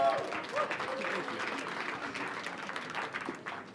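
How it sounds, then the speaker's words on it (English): Audience at a space symposium applauding a presenter, a fairly soft, spread-out clapping from a room of people, with faint voices and a brief tonal sound near the start. "So give him an applause for Germ Falcon."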